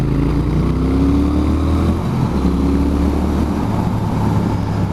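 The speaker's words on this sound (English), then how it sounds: "So as we hit this, I'll give you a quick demonstration." A 2019 Triumph Speed Twin motorcycle, a parallel-twin roadster, pulls hard under acceleration, its engine note steady and loud throughout with a gear change midway, heard close from the rider's position.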